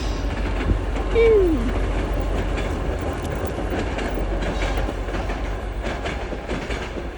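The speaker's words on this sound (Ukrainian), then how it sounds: "Поезд." A train rolls past in the Carpathians with a steady loud rumble and rhythmic clatter of wheels on rails, accompanied by a brief rising squeal near the start.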